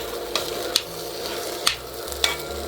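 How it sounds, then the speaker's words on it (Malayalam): A spoon stirs broken wheat into boiling milk in a pot, soft wet swishing with a few sharp clicks as it knocks the sides. "ഇനി ഇത് നമുക്ക് നന്നായിട്ടൊന്ന് മിക്സ് ചെയ്യാം"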